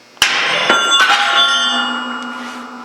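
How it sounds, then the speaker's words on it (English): A hammer strikes a steel action wrench clamped on a Yugoslav M48A Mauser receiver: a sharp ringing metallic impact, then two lighter taps, with a bell-like tone that lingers and slowly fades. "Generally, a good whack on the hammer will break this loose."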